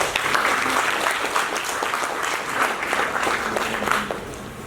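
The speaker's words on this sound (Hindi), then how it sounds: "एक बार जोर से तालियां हो जाओ।" A seated audience at an autism awareness talk bursts into loud, steady applause, with dense clapping sustained evenly throughout.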